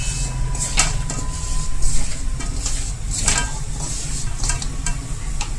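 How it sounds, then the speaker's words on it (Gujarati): Jaggery melting in a pan over a low gas flame gives a constant low sizzle and bubbling hiss, with occasional stirring scrapes and a steady burner hum, close and even throughout. "ધીમા ગેસ ઉપર ગોળને ઓગળવા દેશું"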